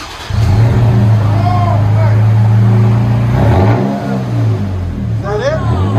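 A 2020 Toyota Tacoma 3.5L V6 TRD Pro 4x4 with a manual gearbox and a Black Widow Widow Maker exhaust rumbles deeply at idle, then briefly swells as it is revved, with people talking over it.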